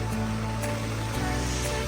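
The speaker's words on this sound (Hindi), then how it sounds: "ये छोटा सा वाटरफॉल जिसकी मैं बात कर रहा था, लेकिन फ़िलहाल यहाँ पे पानी बहुत ही कम है" A small hillside waterfall with only a little water flowing, heard as a steady, continuous rushing wash, close and unbroken, with no voices.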